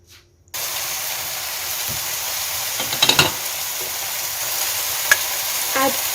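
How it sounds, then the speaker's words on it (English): Broad beans going into a pot of boiling water, a sudden loud hiss and bubbling that starts abruptly and continues steadily, with a few brief clinks and splashes. "And I add broad beans in the boiling water."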